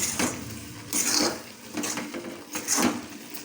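A spoon scrapes and knocks around a pot of carrot halwa as sugar is mixed in, giving a few separate clinking, scraping strokes at close range with quiet pauses between them.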